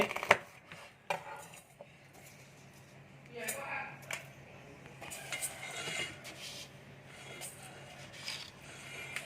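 Knife chopping bilimbi, shallots and fresh shrimp on a board for a Thai salad, irregular taps and knocks, some sharp and close, under someone talking.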